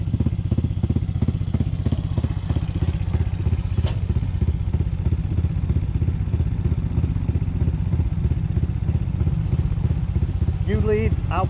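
Motorcycle engines throb in a steady, loud, rhythmic chug on a mountain ATV trail near a Hmong village, close by throughout, with a brief rattle near the end.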